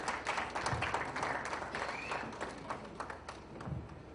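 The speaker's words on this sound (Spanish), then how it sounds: "Un aplauso también para el maestro." Scattered audience clapping at a panel recognition ceremony, soft and somewhat distant, sustained for a few seconds before thinning out.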